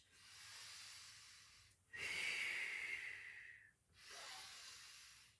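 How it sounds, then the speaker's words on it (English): Audible breaths in and out during a pilates exercise, close and hissing, with three long breaths and short pauses between them, and no talking. "And I'm breathing in and I'm breathing out."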